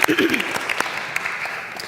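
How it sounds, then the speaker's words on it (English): Clapping from an audience at a storytelling event in Sewickley Presbyterian Church rings out after a story. A brief burst of applause with a few sharper claps at the start settles into a steady patter for about two seconds. "Let's give her a round of applause for that."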